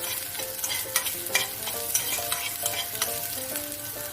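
Ginger and green chillies fry in hot oil in a pan, giving a steady close sizzle with scattered crackles and repeated stirring scrapes and clinks, and no one speaks over it.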